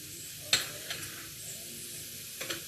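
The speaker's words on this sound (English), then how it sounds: "So those are going to saute." Food sautés in a pan with a faint, soft sizzle, broken by a few light clinks and stirring knocks.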